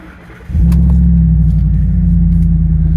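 A 2010 Ford F150 Raptor pickup starts up after a brief quiet moment, then settles into a loud, steady, deep idle rumble heard from inside the cab.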